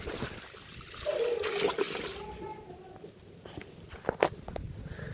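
A cow walks with soft, uneven footsteps and splashes, and short trickling, sloshing water sounds follow as it drinks nearby, with a person talking over part of it.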